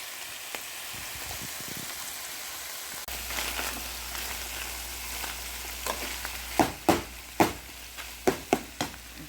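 Meat browns for chili in a hot pan, giving a steady sizzle that picks up after a few seconds, followed by a run of sharp utensil scrapes and knocks against the pan.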